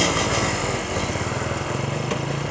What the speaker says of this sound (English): we got the old H2 running, the Mach 4 1972 Kawasaki 750